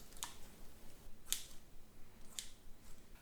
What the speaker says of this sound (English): add to each pan 2 rashers of streaky bacon that you've snipped into small pieces